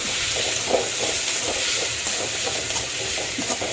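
Cut tomatoes sautéing in a pan, a steady hissing sizzle with faint crackles that continues evenly throughout, close and alone.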